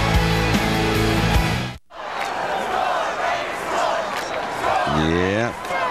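A football stadium crowd of Texas Tech Red Raider fans roars and cheers during a night game against Oklahoma State, a loud sustained wash of crowd noise broken by a brief dropout, with an announcer's voice over it.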